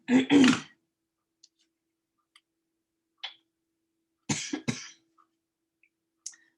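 Two bursts of close, harsh coughing, one at the start and a double cough later, separated by quiet with faint small ticks in between.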